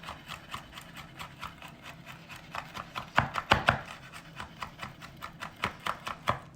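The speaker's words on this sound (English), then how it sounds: "So here's our chopped rosemary." A knife rock-chops fresh rosemary on a cutting board during a cooking class, giving a rapid, steady run of close, crisp taps that briefly grow louder and denser partway through.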